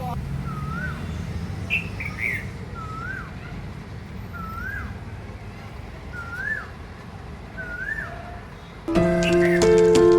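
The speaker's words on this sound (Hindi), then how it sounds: "आपको सुनाई दे रही है कोयल की आवाज़," Asian koel in a garden calling a repeated rising whistled note about five times at a steady rhythm, fairly near over a constant background hum, with other small birds chirping, before a louder burst of mixed noise at the end.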